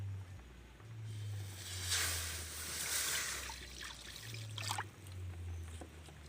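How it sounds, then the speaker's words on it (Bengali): Water is poured into a hot wok on a lit stove, giving a soft, steady trickling and splashing for a few seconds over a low background hum. "এবার কড়ার মধ্যে আমি জল দিয়ে দিচ্ছি।"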